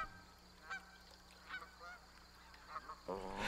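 Canada geese honk in a scattered series of calls, moderately distant, with a louder flurry of honking near the end.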